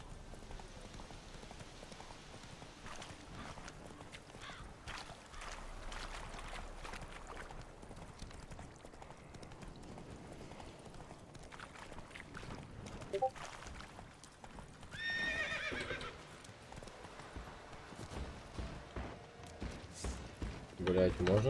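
Roach the horse gallops with a continuous drumming of hooves in The Witcher 3 video game, joined by a brief neigh midway and a player talking over the action.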